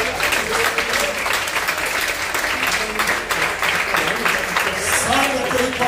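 A church congregation applauds during a sermon, a dense, sustained clapping that swells throughout, with voices mixed into the crowd.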